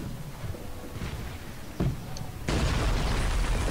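Coastal cannons fire at a ship in the strategy game Cossacks 3, a muffled boom rising out of a dense battle din that swells louder and stays heavy to the end.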